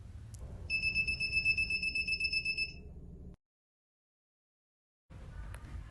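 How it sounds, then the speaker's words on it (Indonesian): An IoT home-security simulation's buzzer alarm beeps in a rapid pulsing series of sharp, high electronic tones over a low hum, then cuts off into silence before the background hum returns. "jika ada orang yang tiba-tiba masuk tanpa prosedur scan eKTP, maka buzzer akan berbunyi 8 kali sebagai peringatan"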